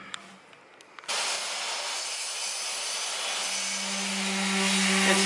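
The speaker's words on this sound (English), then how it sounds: "This is where the oscillating saw comes in handy." Oscillating saw cutting wood while building a custom stair landing and bottom step: a faint knock, then a sudden loud, steady buzzing whine that runs continuously and grows slightly stronger toward the end.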